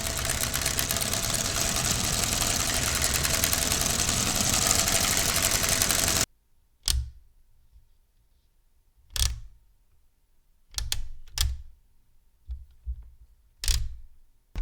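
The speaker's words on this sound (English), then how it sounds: "The engine sound, I sampled it from the engine." A sampled engine sound from a 1994 LEGO Technic 8880 SuperCar drives in a racing simulator at the Nürburgring, a dense continuous drone for six seconds that cuts off abruptly, followed by scattered short clicks and knocks in near silence.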